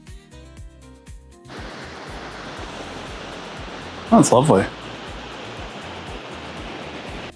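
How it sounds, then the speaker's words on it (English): Ocean waves rush over a gap in the rock on a rugged La Gomera coastline, a steady broad roar that swells in and holds, with a person briefly speaking partway through. "I'm loving watching the waves rush over this gap in the rock."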